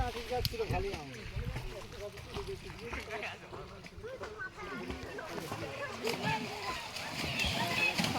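Water splashes and sloshes as people swim in the Ganges at a river ghat, a steady wash of activity close by under constant crowd chatter and nearby talking voices.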